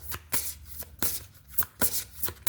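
Tarot or oracle cards shuffled by hand, a run of quick riffling bursts in an irregular rhythm, close and fairly quiet, with no talking.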